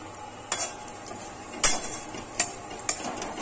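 Whole garam masala spices, including large cardamom, fry in ghee and oil for biryani in a pan, giving a faint close sizzle broken by several sharp clinks and stirring scrapes.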